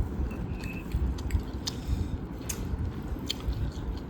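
Steady close-up chewing and soft squishy bites of rice eaten with raw green chili, cucumber and onion at an evening meal, continuous and fairly loud with occasional light crunches.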